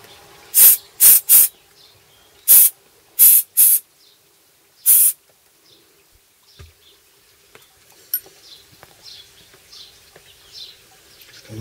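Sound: compressed air duster blasting a seized motorcycle brake

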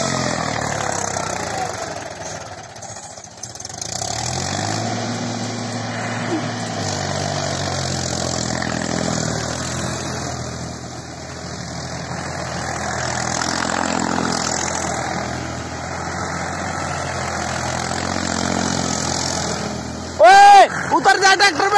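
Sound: Mahindra 265 DI tractor engine running and revving

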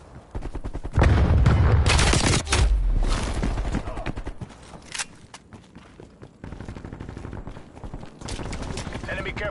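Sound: frag grenade and gunfire in video game Call of Duty Cold War

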